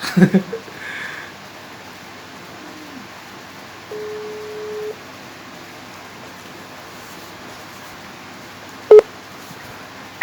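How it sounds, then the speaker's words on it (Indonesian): Telephone dialing tones: a short steady tone, then a brief sharp beep, heard faintly over low background hiss. "mari kita telepon teman selanjutnya"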